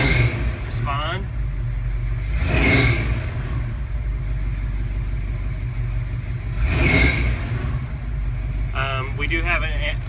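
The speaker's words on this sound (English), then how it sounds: "I'm going to try and push down on the gas, and you can see it respond." A 1978 Dodge Ramcharger truck engine idles steadily with a low rumble and rises in two distinct revs as the gas is pressed. Someone talks over it near the end.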